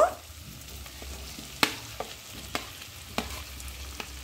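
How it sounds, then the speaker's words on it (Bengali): Fried pointed gourd and potato pieces tumble into sizzling masala in a pan in a village-style kitchen, giving a soft steady frying hiss broken by a few sharp spoon clatters and stirring knocks, close by with no talk. "এই পর্যায়ে আমি ভেজে রাখা পটল আর আলু দিয়ে দিচ্ছি।"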